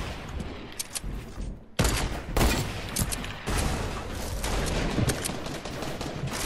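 Dense gunfire in the video game Fortnite, including sniper shots, sounds as a loud, sustained barrage of cracks and booms that keeps up almost the whole time, with a brief lull near the start.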